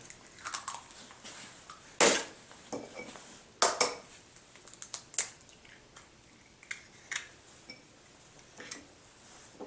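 Eggs cracked one by one into a bowl in a kitchen, a few sharp clicks and taps of shell against the rim with small clatters between them, close and fairly quiet, no talk.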